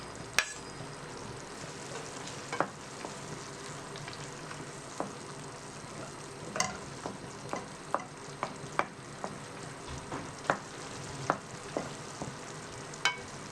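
Peppers, vegetables and olives sautéing in a pan for cod provençale, with a steady close sizzle and repeated sharp clicks of a utensil stirring against the pan, no voices.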